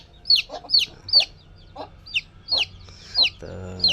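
Domestic chickens give repeated short clucks, roughly eight sharp calls spaced in an uneven rhythm, close and fairly loud, with a faint low hum of background noise underneath.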